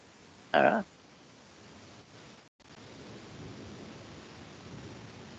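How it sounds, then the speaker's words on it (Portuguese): Thunder rolls through a storm, a low, broad rumble that continues for several seconds, mixed with a steady rain-like hiss. A brief sharp burst comes just before it. "Essa trovoada mexeu com a internet."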